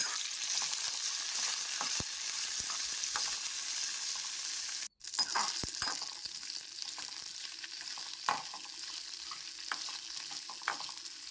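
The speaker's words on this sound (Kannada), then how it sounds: "ಈಗ ಇದಕ್ಕೆ ಒಣಮೆಣಸಿನ್ಕಾಯಿಗಳನ್ನ ಹಾಕ್ಕೊಳ್ತೇನೆ. ಇದನ್ನು ಎಣ್ಣೆಯಲ್ಲಿ ಹುರಿಬೇಕು ಸ್ವಲ್ಪ" Dry red chillies sizzle and crackle steadily in hot oil for temple-style Mangalore cucumber sambar, with occasional clinks and stirring scrapes in the pan and one brief dropout partway through.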